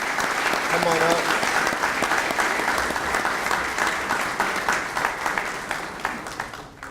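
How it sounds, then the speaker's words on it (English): An audience applauds students at a school district breakfast program, with loud, sustained, dense clapping that slowly thins out, and a voice briefly speaks over it near the start. "Let's give our students a round of applause."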